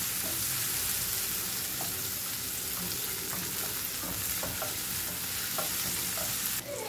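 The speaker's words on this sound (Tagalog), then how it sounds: "At igisa natin to hanggang sa madurog yung kamatis." Squid adobo with tomato sautéing in a pan gives a close, steady sizzle, with repeated light scraping and stirring taps and no voices.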